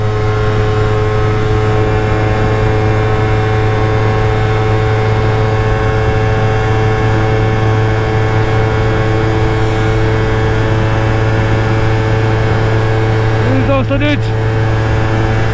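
A motorcycle pulls hard in fifth gear at high speed, around 173 km/h, on a road near Beşikdüzü. Its loud, steady engine drone holds throughout over heavy wind roar, with a brief higher whine near the end.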